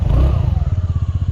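A TVS Ntorq scooter's exhaust at idle, close up, giving a rapid, even low putter with a regular pulsing beat after a brief louder rev at the start.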